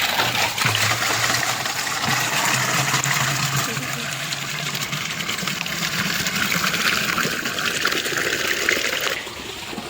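A borewell motor at a village home pumps water that gushes out in a strong, continuous splashing rush, close and loud for the whole stretch, easing slightly near the end.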